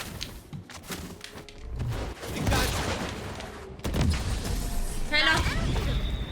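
Scattered gunshots and impacts ring out in the video game Valorant, intermittent and mid-level, mixed with game effects while someone talks over them.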